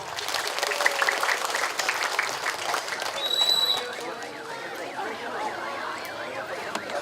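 Audience applause bursts out at a ceremony honoring a speaker, dense clapping that peaks then thins, with a siren-like warbling tone and faint chatter underneath.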